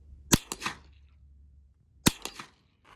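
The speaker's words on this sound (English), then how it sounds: "So I've already taken shots with the 22 long rifle, but we're gonna do it again today" .22 Long Rifle shots strike a gym weight plate. Two sharp cracks come about two seconds apart, each followed by quick ringing echoes, with near silence between them.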